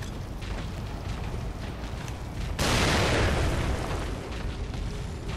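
A grenade blast in The Evil Within bursts suddenly amid a steady, noisy horror-game ambience, one loud explosion that sustains and slowly settles back into the background rumble.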